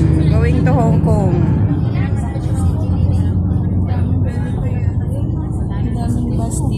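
Buses idling and moving at the Hong Kong–Macau bridge terminal, a loud continuous engine rumble close by, with people talking over it.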